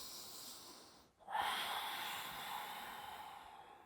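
A single deep breath drawn and released during a yoga forward fold: a brief hush, then a long, airy, steady rush of breath, close and soft, with no talking.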